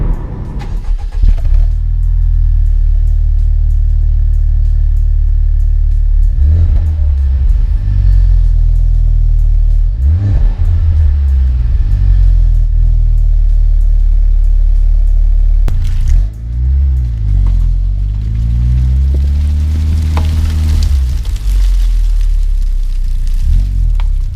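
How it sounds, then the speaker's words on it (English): A Honda Civic Type R's exhaust rumbles loudly and steadily up close, with several throaty revs swelling and falling, the strongest near the end. "listen to how the car exhaust sounds in this car"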